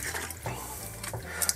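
Tap water runs steadily into a kitchen sink while a leek is washed for a potato and leek soup, a faint continuous splashing with small bumps. No speech.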